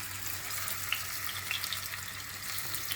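Meatballs fry in hot oil for a Turkish juicy meatball dish, giving a steady, close crackling sizzle with tiny pops over a faint low hum, no voices.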